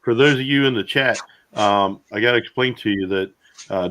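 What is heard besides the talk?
No distinct noise like a dog, phone or traffic.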